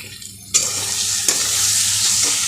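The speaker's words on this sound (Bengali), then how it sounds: "একটু মশলা বাটির ওই ধোয়া জলটা এর মধ্যে দিয়ে দিলাম" Rinse water from a spice bowl poured into a sizzling potato and elephant foot yam curry brings a sudden loud burst of hissing sizzle after a quieter moment, followed by brief stirring, close by and without voices.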